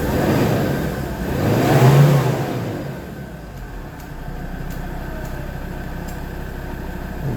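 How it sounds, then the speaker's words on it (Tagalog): A Mazda BT-50 pickup engine, checked for a no-crank no-start fault, revs up loudly in a swelling burst around two seconds, then settles into a steady running idle; no voices. "Goods na goods itong engine na to. Grabe, ang lakas."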